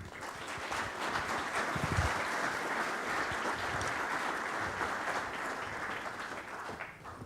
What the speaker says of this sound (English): Keep the applause going until they make it to the stage.